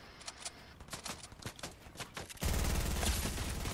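Fortnite gunfire: a quick run of sharp, separate shots, then a sudden, continuous loud burst of rapid fire that carries on to the end, with no talk.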